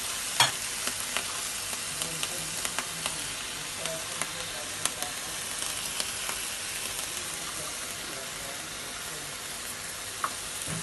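Chicken frying in a pan for Singaporean-style rice, a continuous dense sizzle with scattered sharp stirring clicks and scrapes, close and without voices.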